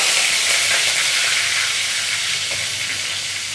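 Curry leaves and dried red chillies crackle in hot oil in a frying pan for a banana stem curry, a loud, dense, continuous sizzle heard close up with no voices.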